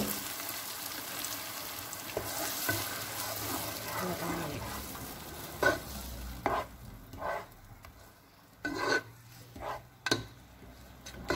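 Peanut sauce with smoked fish sizzles steadily in a pot at a low, even hiss, broken toward the end by several sharper stirring scrapes and clinks.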